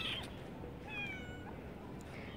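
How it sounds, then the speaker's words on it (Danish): A cat meows several times in short, high calls close by, in a quiet indoor room, with no talking. "Der er katten."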